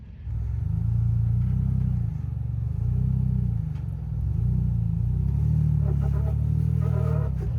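Off-road rig's engine labouring as it climbs rocks, a deep rumbling drone that surges and eases in several pulses of throttle, heard from close by without voices.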